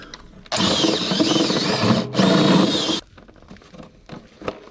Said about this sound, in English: Sometimes you have to ream it out just a little bit more.